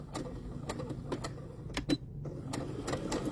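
A sewing machine running steady chain stitching across joined fabric pieces, a quiet fast mechanical whirr with rhythmic ticking pulses and a brief pause near the middle, alone without talk.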